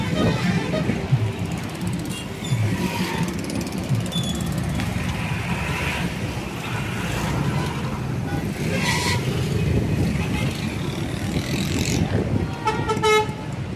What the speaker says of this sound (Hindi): ये हब रिवर पे एक ऊपर ट्रैफिक चल रहा है